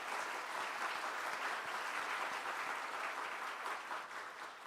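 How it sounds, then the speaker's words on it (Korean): A church congregation at a Sunday service claps in encouragement for a standing guest, a broad, even wash of applause that stays steady and fairly distant, tapering slightly near the end. "우리 한번 격려의 박수 드리겠습니다."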